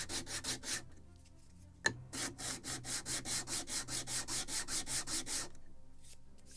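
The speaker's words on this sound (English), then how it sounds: "my long sanding block to remove all that uneven cut with fur and chips." A long sanding block works across a model ship's wooden deck on a Model Shipways kit of the 1776 gunboat Philadelphia. It makes close, rhythmic back-and-forth rasps, roughly twenty quick strokes after a short pause and a single sharp tap.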